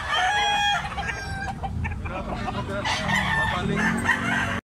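A rooster crows loudly and close by, with steady clucking from other fowl filling the background throughout.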